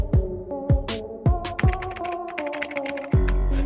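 Keystrokes on a computer keyboard, a quick run of close, crisp clicks and taps over a steady low hum from music or room tone.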